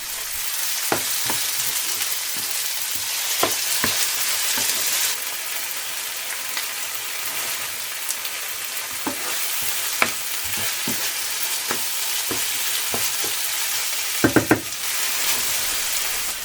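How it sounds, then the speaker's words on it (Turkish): Steady sizzling of tomatoes and vegetables frying in a pan, with intermittent scraping clicks of stirring and a cluster of louder clatters near the end. "Domatesleri ilave ettikten sonra şöyle bir dakika daha kavurdum."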